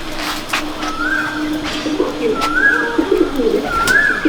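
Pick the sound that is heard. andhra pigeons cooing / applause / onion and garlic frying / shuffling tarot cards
andhra pigeons cooing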